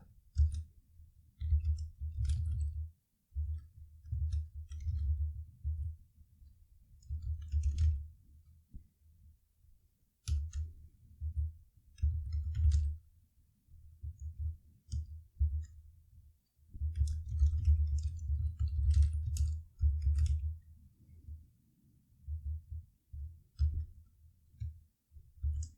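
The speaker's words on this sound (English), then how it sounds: "So let's type" Typing on a computer keyboard while coding, heard as soft, close bursts of key clicks in irregular runs with short pauses between them, no voices.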